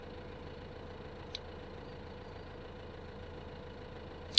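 A tractor engine in the farming video game Farming Simulator 15 idles steadily with a low, even hum, holding the same level throughout with a couple of brief clicks and no talk.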